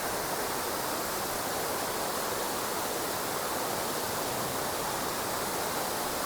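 Water rushes under a bridge on a trip near Ooty, a continuous broadband roar of flowing stream that stays steady and close with no voices.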